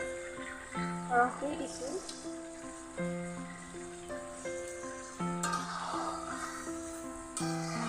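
Potatoes fry with goat meat in a pan, giving a steady sizzle beneath talking voices that dominate throughout.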